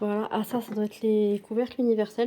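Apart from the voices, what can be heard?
No distinct noise like a dog, phone or traffic.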